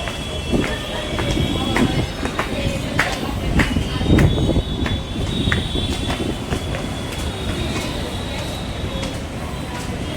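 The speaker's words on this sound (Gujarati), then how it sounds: "સુરતનું રેલવે સ્ટેશન" Trains at Surat railway station, with rolling rail clatter, repeated metallic clicks and squeals over a steady rumble, plus faint background voices.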